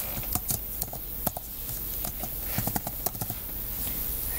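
A password is typed on a computer keyboard for an astrophotography mini PC, with a quick, irregular run of close, crisp keystroke clicks over a steady background hiss.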